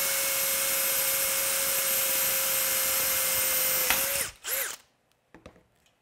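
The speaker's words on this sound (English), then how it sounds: "So we'll drill that out, and then we're gonna go through one wall of the box." A power drill bores a hole, whirring steadily at one high pitch for about four seconds, then winds down and stops, followed by a short rev and quiet handling.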